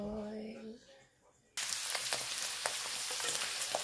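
Prawn crackers drop into hot oil and burst into a loud, bright, steady sizzle, with a few crackling pops. A voice speaks faintly just before the sudden onset of frying.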